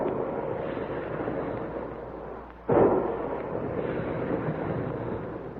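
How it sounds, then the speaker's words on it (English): A radio sound effect of big guns firing. After a low rumbling lull, one deep booming blast hits at once and fades into a continuous muffled roar, loud and alone. "Big guns. Hear them?"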